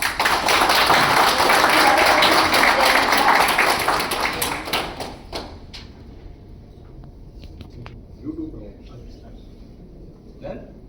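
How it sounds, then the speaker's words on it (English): Applause after a presentation at a company board meeting, a burst of clapping from a small group for about five seconds, then fading to scattered taps, faint thumps and room noise. "So lovely presentation. We give an applause."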